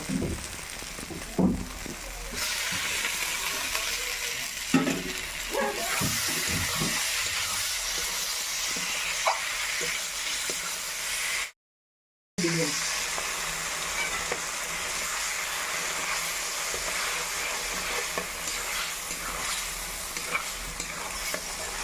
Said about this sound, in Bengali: এবার আমি ভাজা আলুগুলো দিয়ে দিব